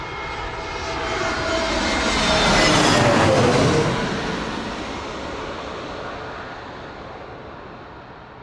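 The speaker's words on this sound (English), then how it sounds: "Absolutely stunning arrival from the EasyJet A320" EasyJet Airbus A320 landing at Bristol Airport, its jet roar swelling as it approaches, peaking loud overhead, then fading into a long rumbling rollout on the runway.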